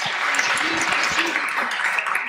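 Panel audience at a women's empowerment event applauding the panelists, with steady dense clapping held at a moderate level throughout the short stretch.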